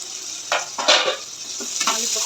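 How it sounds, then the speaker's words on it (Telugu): Beans and egg being stirred in a frying pan, with a steady sizzle and a few scraping strokes of the spoon coming up clearly and close by. "మళ్ళీ ఇంకొకసారి కలుపుదాం"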